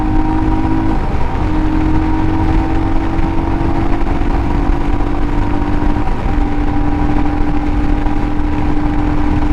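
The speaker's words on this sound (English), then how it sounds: "So we're in third gear here, throttling up." A Royal Enfield Himalayan motorcycle accelerates in third gear, its engine a steady loud drone with rising tones, wind and road noise constant throughout, no talking.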